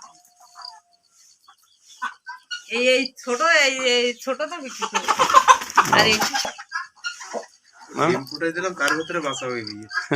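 Rooster and farm chickens cluck and call in a village poultry yard, the bird sounds mixed in with people talking nearby for most of the stretch.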